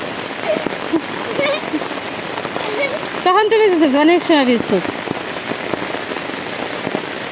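Monsoon rain pours steadily over a waterlogged yard beside a house, making a constant hiss of drops that runs throughout while people talk over it.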